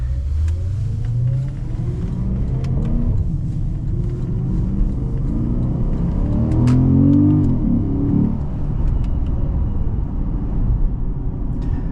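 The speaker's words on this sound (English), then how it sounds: "The intake noise is intoxicating." A 2013 Porsche Panamera GTS engine roars with deep intake noise, rising in pitch as it accelerates, swelling loudest midway and then settling back to a steady drone.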